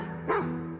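A dog on a farm gives a single short bark, close and fairly loud, over a steady low background hum.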